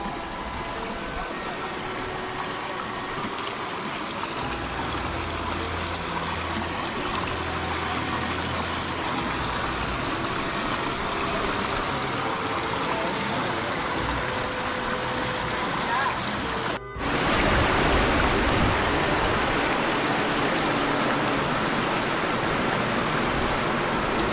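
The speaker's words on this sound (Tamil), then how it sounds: "ஆத்துல தண்ணீர் போயிட்டு இருக்கு அந்த சவுண்ட் கேக்குதான்னு பாருங்க" River water rushing near Gorakkar cave on Sathuragiri hill, a steady broadband roar that runs throughout and swells louder near the end, with no voices over it.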